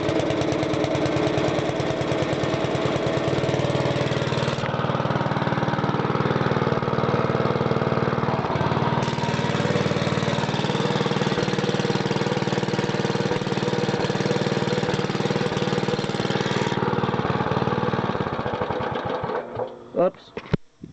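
A Wisconsin engine mounted on a Master generator set runs steadily on its first start, a loud continuous chugging drone that shifts in pitch partway through, then sputters and dies near the end.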